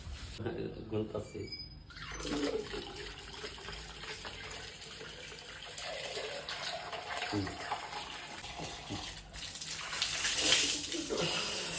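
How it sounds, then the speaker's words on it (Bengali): Water splashes and pours during bathing and clothes washing, an uneven run of close gushes and tap flow with louder bursts near the end, while people talk over it. "এই যে কাপড় টুপড় কিন্তু দইয়া দিচ্ছি"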